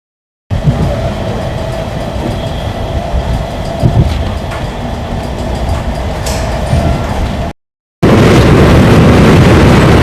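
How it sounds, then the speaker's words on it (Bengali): A train picking up speed after leaving the Nalhati rail gate, a loud, steady roar of wheels and carriages from on board with faint clatter, a brief dropout, then an even louder rush. "নলহাটি রেলগেট ছেড়ে কিন্তু আমাদের ট্রেনটা কিন্তু এবার স্পিড ধরে নিয়েছে।"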